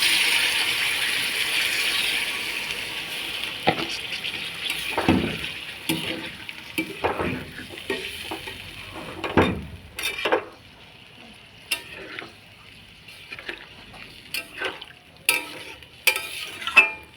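A curry being stirred in a pan after water is added, with a fading hiss early on followed by irregular close scrapes and knocks of a spoon against the pan.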